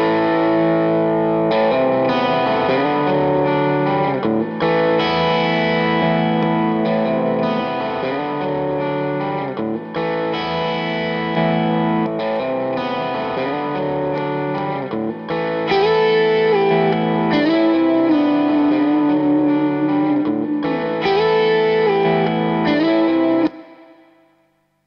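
Electric guitar with delay being recorded into a loop on a GigRig G3 looper: steady, layered, moderately loud phrases repeat continuously for about twenty-four seconds before fading out.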